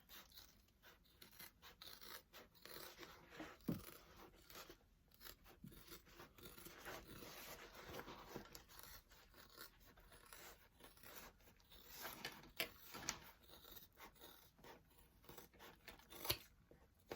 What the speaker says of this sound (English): I'm gonna go ahead and trim this down while I've got it